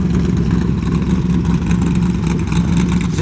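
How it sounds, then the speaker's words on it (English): A 1929 T-bucket hot rod with a 383 stroker V8 and small glass-pack resonators in the pipes, revving loudly up close in a continuous deep rumbling roar. "When you give it the gas, you better hold on because it'll jump."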